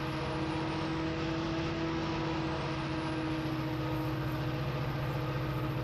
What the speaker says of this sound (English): I like how the turbocharger sound is so high-pitched that it actually goes away if you use full